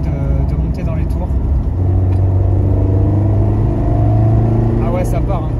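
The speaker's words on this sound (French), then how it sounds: "On sent que le moteur est très alerte et qu'il a envie de monter dans les tours." A 1981 Talbot Sunbeam Lotus engine revs up from inside the car, a loud, rising mid-pitched growl that climbs steadily through the revs while the car drives on.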